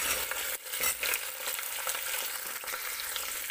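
Onions, carrots, cauliflower and potatoes fry in a pan for a mixed vegetable pulao, giving a steady, loud, close sizzle with a few brief stirring scrapes and no talk.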